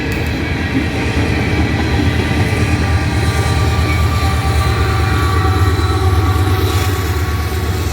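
A freight train with distributed power units passes close by on a northbound grade, a loud continuous rumble and grinding of wheels and cars with a low engine drone.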